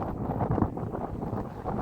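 Steady wind buffets the microphone in a low, continuous rumble at the edge of a Normandy cliff, with gusts swelling and fading throughout and no voices.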